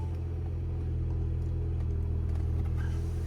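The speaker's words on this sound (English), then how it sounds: "So you put the key in the slot and then put your foot on the clutch and then start button right there. And the vehicle is on." A 2011 Mini Cooper Countryman S engine running at idle just after push-button start, a steady low rumble with a faint rise in revs, close and continuous with no talking.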